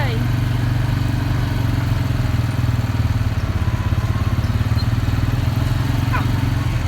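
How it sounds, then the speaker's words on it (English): A Honda Rancher four-wheeler engine running on a small homestead, giving a loud, steady, close putter with a fast even pulse, continuous throughout with no pauses. "This four-wheeler I've got right here, it's a Honda Rancher"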